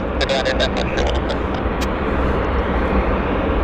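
A WestJet airliner taxiing at Vancouver airport, its engines giving a loud, steady roar and whine that holds level throughout, with a few higher clicks or chirps briefly on top.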